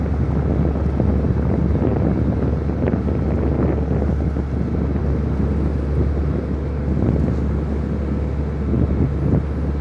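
A motorized boat engine drones at sea while wind buffets the microphone, a constant loud low rumble with rushing wind and splashing water throughout, no voices.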